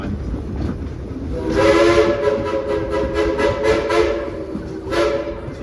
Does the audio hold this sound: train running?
yes